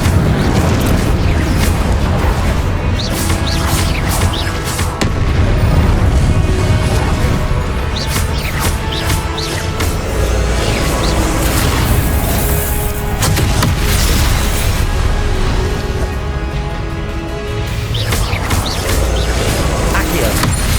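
An Incendio fire spell in Hogwarts Legacy blasts amid rapid spell combat, with repeated loud booms, crashes and pops layered over a dense, continuous game soundscape.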